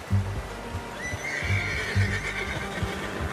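A horse in the video game Red Dead Redemption 2 whinnies in a long, high neigh, with soft clip-clop hoofbeats and low snorts around it, close by and fairly loud.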